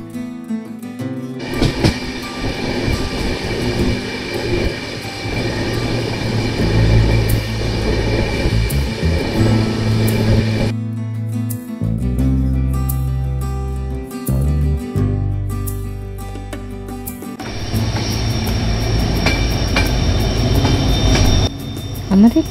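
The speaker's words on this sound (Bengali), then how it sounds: "আমাদের ট্রেন নলহাটি জংশন, পাকুড় স্টেশনকে অতিক্রম করে এগিয়ে চলেছে নিউ ফারাক্কা জংশনের দিকে।" The 13147 Uttarbanga Express passenger train runs on rails between Nalhati Junction and New Farakka Junction, giving a loud, continuous rumble with rhythmic wheel clatter, squealing and shifting tones for over twenty seconds, with no talk.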